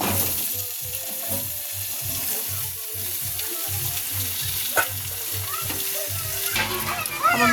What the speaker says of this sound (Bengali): পাঁচ ফোড়ন দিয়ে দিচ্ছি পেঁয়াজ দিয়ে দিলাম